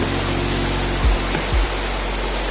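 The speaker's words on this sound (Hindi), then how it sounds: "नीचे आ रहा है यहाँ से ज़बरदस्त पानी" A heavy torrent of rainwater rushes down in Amer, Jaipur, during a downpour: a loud, continuous roar like a waterfall, with a couple of brief low thumps partway through.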